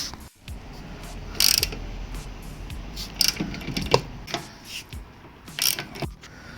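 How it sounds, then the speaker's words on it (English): Ratcheting wrench clicks in short bursts as a 13mm bolt is tightened on the rear brake caliper of a 2015 MINI John Cooper Works, close and clear with small metallic knocks between the bursts. "let's get this bolt on, the 13mm bolt."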